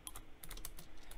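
Quick, soft keystrokes on a computer keyboard as a search is entered into a store's search bar, about a dozen light taps in an irregular rhythm with no talking.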